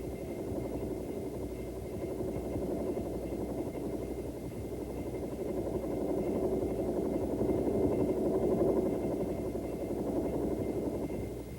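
A Bell AH-1 Huey helicopter lifts off from a hover, its engine and rotor making a steady, loud drone and throb that swells slightly partway through, with no voices.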